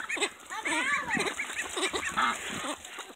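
Juvenile call ducks and a Cayuga duck quack and chatter nearby in a rapid, overlapping series of nasal calls that fills the whole few seconds.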